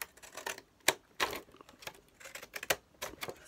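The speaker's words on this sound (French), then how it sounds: "là on l'enlève en faisant avec le ciseau cranteur" Pinking scissors snip through paper card for a scrapbooking card, giving a series of short, crisp clicking cuts in an uneven rhythm, close and fairly quiet, with no talking.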